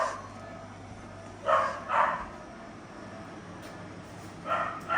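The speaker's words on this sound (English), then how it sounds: "the dog's on watch" A watchdog at a small local shop in a country town in New South Wales barks in short pairs, moderately close, with a quiet pause in between and a further bark near the end, over light background noise.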